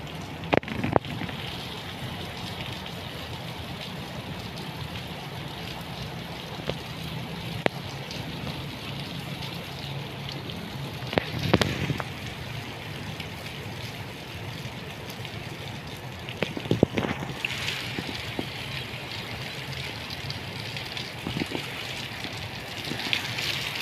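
Swollen river close to overflowing during Typhoon Goring, a steady broadband roar of rushing water with rain, continuous and moderately loud, with a few brief louder splashes and gusts.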